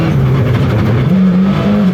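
Front-wheel drive rally car racing downhill through a fast stretch toward hay bales, engine droning loud and steady with a rising pitch as it accelerates, continuous and close.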